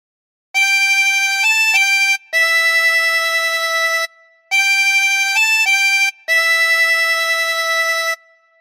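A 24-hole tremolo harmonica plays the opening of Silent Night, clear wavering reed tones in four sustained phrases separated by short breaths, loud and close with no voices.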